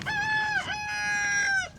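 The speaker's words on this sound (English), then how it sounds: "Boy, the old rooster is full of themselves this morning." A farm rooster crows one long, clear cock-a-doodle-doo close by, with a brief dip midway before the call trails off, heard alone over quiet outdoor background.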